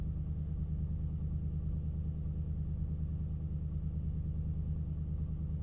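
A car engine idles while still cold on a freezing day, a steady low rumble with an even, continuous pulse, close and unchanging throughout with no talking.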